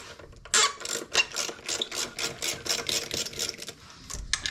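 Close, fast ratchet clicking comes from a wrench loosening a bolt beside the throttle body of a 2006 Toyota Tundra 4.0 V6, in a steady run of rapid strokes with brief gaps.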